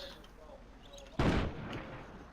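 A single P-22 pistol shot in the video game Sniper Ghost Warrior 2 bursts out sharply midway, then decays over a low rumble.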